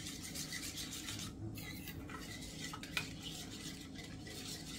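Spoon scraping and stirring a homemade cucumber face cream mixed with a spoonful of Nido milk powder, a steady close rasping swirl with one sharper clink of the utensil against the bowl.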